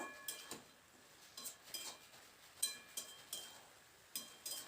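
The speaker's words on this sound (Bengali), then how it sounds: "এবার খুব ভালো করে মশলার সঙ্গে নাড়াচাড়া করে শাকটাকে একটু মিশিয়ে নেব।" Spinach being stirred with spices in a pan, a spatula scraping and clinking against the metal at an irregular pace, each stroke a soft brief clatter over a faint background hiss, fairly quiet and close.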